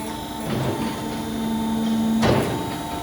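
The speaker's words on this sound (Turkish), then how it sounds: "Buradan da tekrar ön kapıyı kapat görelim." Front door of a livestock weighing and catch unit sliding shut: a long metallic scraping glide ending in a clanking impact, close and fairly loud.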